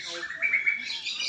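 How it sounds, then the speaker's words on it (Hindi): A native parrot at a zoo in Lucknow, India, gives a short, shrill chirping call, moderately close, over light background murmur. "देसी वाले तोता है"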